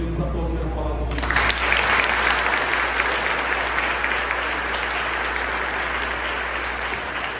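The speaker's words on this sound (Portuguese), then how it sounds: "Podemos aplaudir a palavra de Deus." A church congregation at a thanksgiving Mass bursts into applause after a voice finishes speaking, a dense reverberant clapping of many hands that holds steady to the end.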